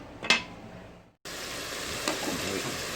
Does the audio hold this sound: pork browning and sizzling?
yes